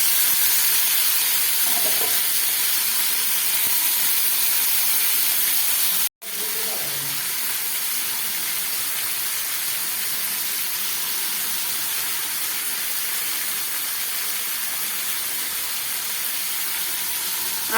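Rohu fish pieces added to a pan of frying onions, giving a steady, loud, close sizzle that runs the whole time, broken only by a brief near-silent gap in the middle, with faint stirring.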